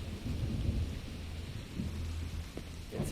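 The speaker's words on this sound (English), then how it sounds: "It's raining cats and dogs here." Heavy rain and a low rolling rumble of thunder in the video game Call of the Elder Gods, a steady close downpour with no talk over it.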